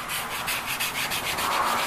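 A wooden bench top being sanded by hand, a loud close rasping scrub that pulses in quick regular back-and-forth strokes with no voices.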